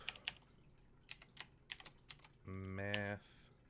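Commands are typed on a computer keyboard in sparse, soft, close clicks, then a brief voice cuts in near the end.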